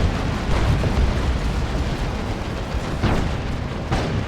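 A Chaos tank is blown apart in a Dawn of War 2 battle, heard as a loud, continuous roar of blasts and rumbling explosions with repeated bursts in a crowded wartime soundscape.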